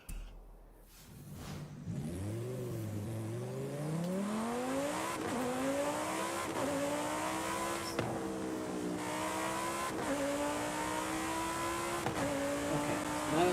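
In an Xbox One driving video game, a car engine revs up from idle and climbs through repeated rising and falling pitch sweeps as gears change, with faint tire noise and no voices.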